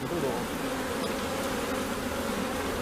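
Bees buzz steadily on a beekeeping farm, a dense, continuous drone that holds at an even, fairly loud level throughout with no talk over it.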